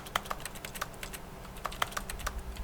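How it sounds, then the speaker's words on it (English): Keyboard typing from The Stanley Parable video game: quiet, irregular clusters of soft key clicks tapping over faint background hum. "Why is it making keyboard sounds?"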